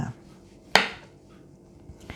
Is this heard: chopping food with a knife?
yes